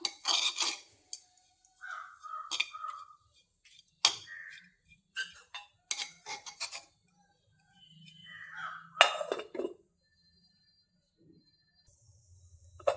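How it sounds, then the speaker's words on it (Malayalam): Crushed spice paste being stirred into a taro-leaf stir-fry in a pan: scattered light scrapes, clinks and taps of a utensil against the pan, intermittent and fairly quiet, with short pauses between strokes. "അരപ്പ് ഞാൻ ചതച്ചാണ് എടുത്തത് അത് നമുക്ക് അതിലേക്ക് ഇട്ട് കൊടുക്കാം ഇട്ടൊന്ന് ഇളക്കിയിട്ട്"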